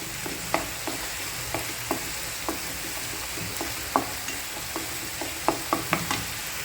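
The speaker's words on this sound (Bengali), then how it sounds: "পেঁয়াজটা এবার একটু ভাজা ভাজা হয়ে গেছে" Onions fry in a pan, a continuous sizzle broken by regular scraping strokes of a spoon as they are stirred, close and fairly loud with no talking.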